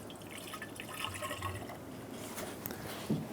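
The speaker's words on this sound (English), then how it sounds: "Fill the coolant reservoir with coolant." Coolant is poured into the reservoir of a 2014-2018 Chevrolet Silverado 1500 5.3L V8, making a faint, steady liquid trickle and gurgle that ends with a brief clunk.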